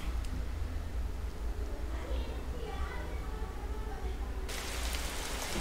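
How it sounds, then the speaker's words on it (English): Rain falls in a Roblox video game as a steady, soft hiss of broadband noise, faint and continuous, that brightens near the end. "So it's way better when there's even a rain sound."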